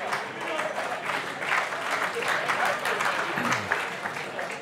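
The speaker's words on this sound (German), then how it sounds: "Da gibt es zu Recht Applaus auch." Applause after a football match, with fans clapping steadily and densely in a large space, a moderately loud wash of claps throughout with some voices underneath.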